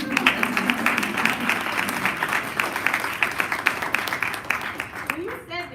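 A crowd at a panel discussion claps warmly in a dense, lively burst that tapers off near the end, when a voice starts speaking.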